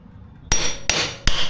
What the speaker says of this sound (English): I like to take my oil filter, poke a hole in the back of it, and let it drain first.